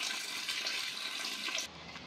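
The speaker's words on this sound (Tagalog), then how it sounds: "Tubig, malamig." Cold tap water runs hard in a bathroom, a loud continuous splashing gush that stops abruptly near the end and leaves a quieter hiss.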